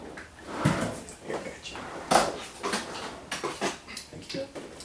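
A drawer slides open in a room to get scissors, with several short clunks and rattles of its contents close by amid light handling noises.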